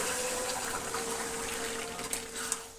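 Water pouring into a pot of chicken and potatoes cooking in spicy curry, a brief steady rushing fill that ends with a couple of small splashes, close by and without talk.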